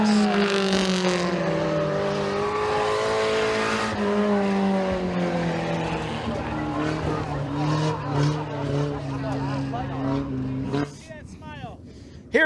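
Kids' mini stock race cars on a dirt oval at McKean County Raceway, with engines snarling and revving hard through a turn and down the straightaway. An announcer calls the race loudly over the engines, and the sound drops off abruptly near the end.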